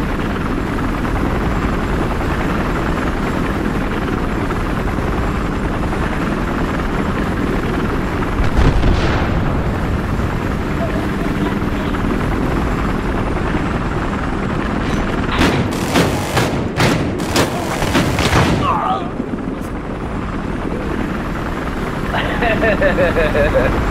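A helicopter in the video game Battlefield Hardline drones steadily throughout, joined midway by bursts of gunfire and sharp impacts, with faint voices underneath.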